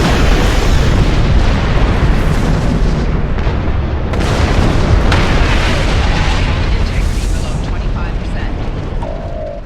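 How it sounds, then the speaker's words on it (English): Loud torpedo blasts in the Star Trek Online space game, a dense rolling wall of booming explosions with sharp bursts that fills the whole stretch without letup. "Prepare to fire another spread of torpedoes."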